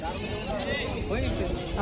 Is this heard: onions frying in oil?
no